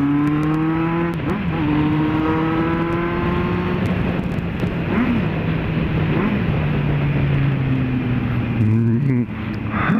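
A loud Kawasaki Z750 motorcycle engine drones close by at night, its pitch rising and falling with revs and gear changes, with someone talking over it.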